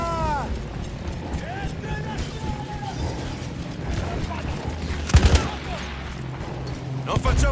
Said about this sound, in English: Quel cannone antiaereo sta abbattendo i nostri bombardieri!